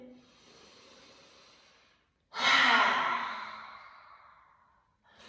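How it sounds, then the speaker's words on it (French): A voiced exhalation during a pranayama yoga breathing exercise: a soft breathy stretch, a short pause, then a loud, airy sigh-like outbreath that fades over a couple of seconds, with a brief breath at the end. "faut vraiment essayer de se mettre un petit peu de voix, un peu de son quand on vient expirer"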